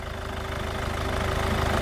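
A 2012 Kia Optima 1.7 litre turbo diesel four-cylinder engine idles steadily, a close, even low rumble with a regular diesel knock and no talk.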